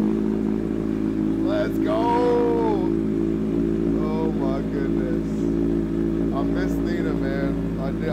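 A Kawasaki Ninja H2 motorcycle with a stage 2 build runs close and loud, its engine giving a steady deep exhaust drone throughout, while people talk excitedly over it.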